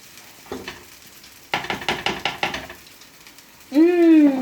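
Tomato rice is stirred in a pan, a burst of quick scraping strokes over a soft sizzle, close and fairly quiet, followed by a voice speaking briefly.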